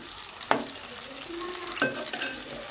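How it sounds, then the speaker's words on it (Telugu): Spiced eggplant fries in oil in a pan, a soft steady sizzle broken by two sharp clinks of stirring. "ఇది కాసేపు వేగనిద్దామండి చూడండి ఇలా వేగిపోయింది కదా"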